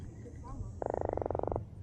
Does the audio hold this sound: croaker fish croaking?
yes